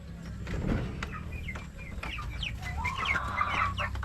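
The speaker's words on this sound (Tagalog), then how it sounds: "ngayon, pakain muna tayo ng manok. Kasi gutom na sila." A flock of hungry chickens clucks and chatters continuously nearby at a backyard farm before feeding, with a rising squawk partway through and a low background murmur.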